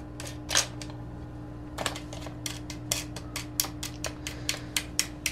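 LED light fixtures in a strawberry grow tent are unscrewed by hand, giving a quick series of faint close plastic clicks and ticks over a steady electrical hum, with no talking.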